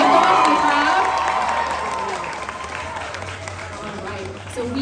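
A crowd cheers and applauds at an anime cosplay contest at the MN State Fair Grounds, a loud burst of clapping and shouts that gradually tapers off, with voices mixed into the noise.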